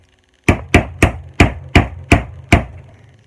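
Seven sharp, evenly spaced knocks while a hole is punched during mounting of a block knife sharpener, each a loud, close impact with a short decay against quiet.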